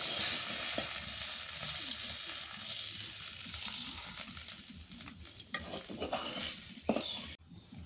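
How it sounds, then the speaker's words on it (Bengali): Onions frying in a pan with steady, loud sizzling and occasional stirring scrapes, a village home kitchen cooking lunch; continuous hiss throughout with a few sharper clinks near the end, no talking. "এগুলো পেঁয়াজ দিয়ে ভালো করে ভাজে নিলাম।"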